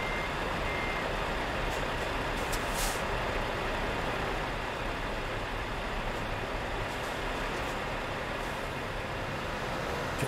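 Many trucks drive together in a Euro Truck Simulator 2 multiplayer convoy, a dense, constant roadway roar with reversing beeps and air-brake hisses scattered through it.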